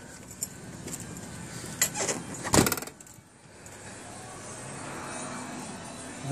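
A 1977 Mercedes 450SL with an engine problem cranks briefly amid key jangling and clicks, then a low, steady idle with a faint miss settles in and continues quietly to the end.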